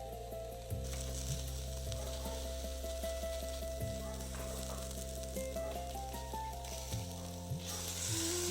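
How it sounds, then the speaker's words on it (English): Tur, urad and masoor dal hiss and sizzle as they hit a hot kadhi (an Indian wok) on a gas stove, a continuous crackling fry with faint stirring over a steady low hum and occasional clicks. "Add the tur dal, urad dal, and masoor dal to the kadhi."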